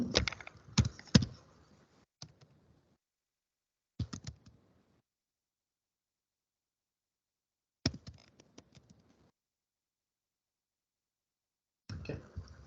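Bursts of typing on a computer keyboard, punctuated by mouse clicks, come in short separated clusters with long silent gaps between them, close and fairly quiet.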